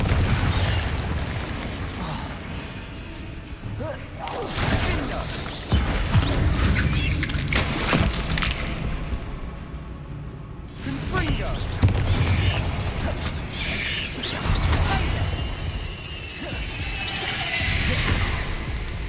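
Confringo blasting spells explode during spell-casting combat in Hogwarts Legacy on PS5, a series of loud booms and bursts among clanking mechanisms and crackling magic effects, spread across the passage.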